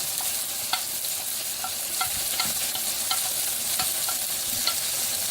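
Spices for chicken curry frying in a pan, with a steady sizzle and repeated scraping stirs of a utensil against the pan, close and continuous without talk.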